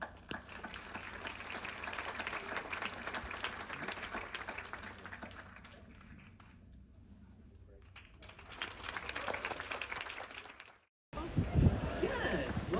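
Passengers aboard an expedition cruise ship bound for South America and Antarctica clap, a faint, scattered round that dips in the middle, swells again, then cuts off abruptly before some louder handling noise.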